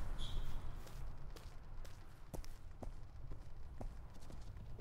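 An ibex bolts away across the Val-des-Bois terrain in the hunting game The Hunter Classic, its hooves striking in a quick run of distinct clip-clop steps over a low, steady ambient bed.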